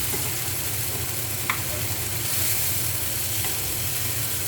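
A red chili chutney with hot tempering just poured in is stirred in the pan, making a constant close sizzle with soft spoon scrapes and one brief clink.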